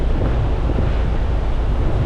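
Steady, loud wind buffeting the microphone on an exposed spot in Croatia, a continuous low rumble and roar with no pauses and no voices.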